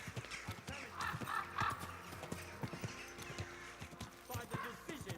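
Horse hooves clip-clop steadily on hard ground in Kingdom Come: Deliverance II, with a horse whinnying and voices faintly under the footfalls.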